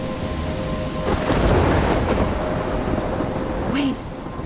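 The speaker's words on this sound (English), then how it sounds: "I'm trapped in a storm?" Thunderstorm in the video game Life is Strange: steady heavy rain with a deep rolling thunder swell near the middle, loud and continuous, with no talk.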